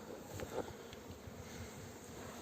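Honeybees buzz at an open hive in a steady, soft, dense hum of many wings, close and continuous with no talking.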